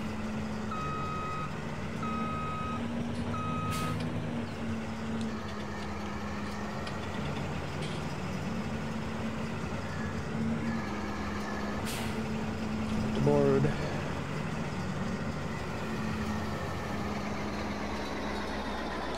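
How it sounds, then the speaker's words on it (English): In the video game Farming Simulator 22, a truck idles with a steady engine drone while unloading harvest into a silo. Evenly spaced reversing beeps and a short hiss of air brake sound over it, with no one talking. "I guess we'll dump this into the silo."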